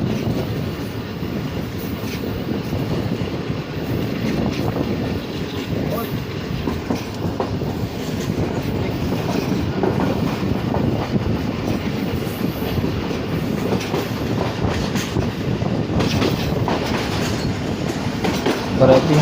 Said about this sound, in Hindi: मिलत एक्सप्रेस थ्रू पास करने आ रही है मीटिंग रेलवे स्टेशन पर